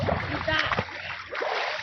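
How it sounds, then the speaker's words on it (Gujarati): Water splashes in a simple farmhouse swimming pool, a few quick close splashes mixed with voices over a brief moment. "પાણી ની ઉડાડ."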